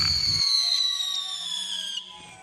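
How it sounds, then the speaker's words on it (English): A firework whistles as it climbs: a single loud, piercing tone slides steadily downward for about two seconds after a short burst of launch noise, then stops abruptly and leaves a faint tail. "Whistling sounds during ascent,"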